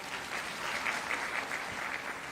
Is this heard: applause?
yes